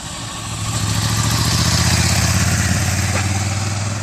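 A Ducati Scrambler motorcycle engine runs steadily close by with a throbbing mid-low drone, holding a fairly constant pitch through clutch and throttle practice, with no talking.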